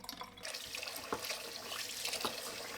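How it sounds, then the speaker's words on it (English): Jasmine rice is rinsed in a sink under a running tap, with water splashing and swishing steadily over the grains, close by and moderately loud throughout. "Start by cooking 1 pound of jasmine rice. First, wash it 3 times to remove the starch."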